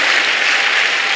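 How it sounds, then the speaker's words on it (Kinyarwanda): A church congregation claps in a dense, even burst of applause, celebrating a pastor's family and their newborn child, brief and steady throughout. "Reka dukomere Imana amashyi tuyishimire."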